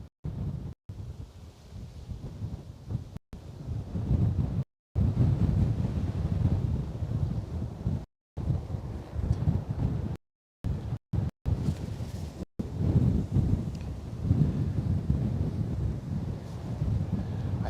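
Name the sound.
crosswind at an airport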